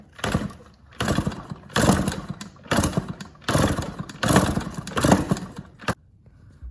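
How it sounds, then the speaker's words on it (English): Yamaha PW80 dirt bike with a leaking crank seal being kicked over, about six heavy mechanical bursts in a regular rhythm close by, with no sign of the engine catching. "I'm gonna need to kick it over a few times and see if it leaks"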